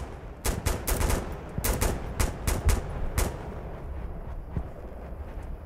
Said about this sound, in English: Shots fired front.